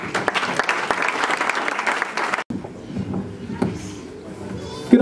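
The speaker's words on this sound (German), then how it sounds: "das ist einen fetten Applaus für den kleinen Mann wert" Steady applause from a crowd at a team presentation, continuous for several seconds, with a brief dip midway and a voice talking faintly over it.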